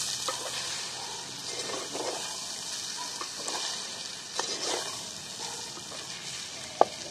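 Eggs fry in a covered pan for egg biryani, giving a steady, soft sizzle with faint crackles and an occasional sharp pop, heard alone without talk.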